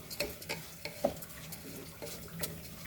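Jeera rice ingredients sizzle in a pan while a utensil stirs and scrapes, with repeated knocks and clinks against the metal at an uneven rhythm.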